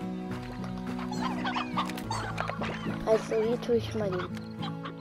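Chickens clucking in a video game, with someone talking over them as short tonal clucks and calls come and go beneath his voice, alongside game music.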